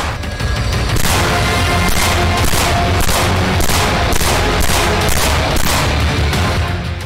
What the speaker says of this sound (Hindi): बेखौफ हत्यारों ने एक के बाद एक गोलियां गोगामेडी को मारी